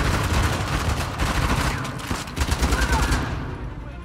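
Rapid gunfire from a firefight in the action game Uncharted: The Lost Legacy, dense bursts of shots running continuously and loudly throughout, thinning out toward the end, with a voice speaking over the exchange.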